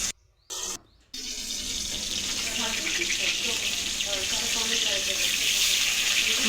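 Fish dropped into hot oil in a wok on a gas stove, after two short silent gaps a loud, steady crackling sizzle takes over and holds close and strong to the end.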